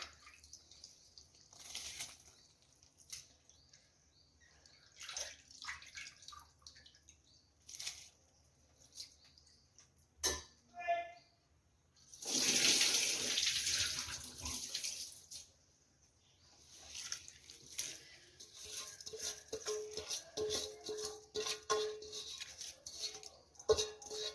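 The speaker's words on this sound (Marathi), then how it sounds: "धुवून घेतलेला आपण भिजू घातलेला तांदूळ त्या उकळत्या पाण्यात टाकून देऊया" A loud rushing splash of soaked rice tipped into boiling water lasts a few seconds, surrounded by quieter clinks, drips and kitchen handling sounds.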